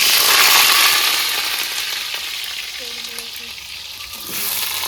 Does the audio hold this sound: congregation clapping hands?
no